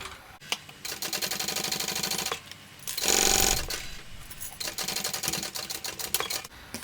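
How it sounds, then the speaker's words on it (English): A sewing machine topstitches the edge of a shoulder bag in rapid, even mechanical bursts close by, with a few brief pauses and a louder whirring stretch midway. "I'm going to go ahead and top stitch this edge."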